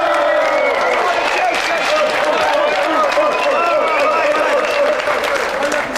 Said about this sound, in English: let's have a round of applause for tonight's contestant, Adam Freeman!